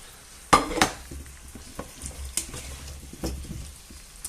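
Potatoes tipped into a hot pot for a mussel and fish stew, a sharp burst of sizzling followed by repeated scraping stirs and clinks against the pot, close up with no voices.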